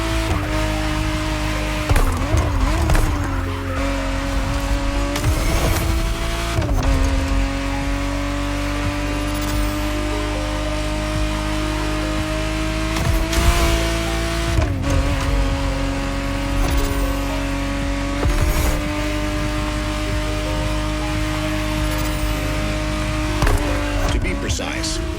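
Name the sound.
Ferrari 512 TR Testarossa engine, The Crew Motorfest video game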